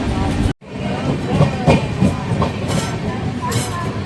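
Steady rumble and rattle of the Kanyakumari superfast express train rolling along the rails near Jolarpettai, with a brief dropout near the start and faint clacks throughout.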